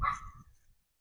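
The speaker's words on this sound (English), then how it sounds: "Why are you barking at me?" A single sharp dog bark, close and fairly loud, with a brief tail of lower noise fading out within a second; no talking.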